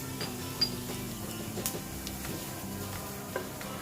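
Cumin seeds crackle in hot oil for a rajma masala, a faint, steady sizzle with scattered clicks and light stirring taps, no voices.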